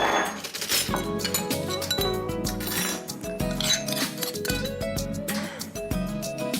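Garlic pounded to a paste in a mortar, a rapid series of sharp knocks and clinks that keep going over loud background music.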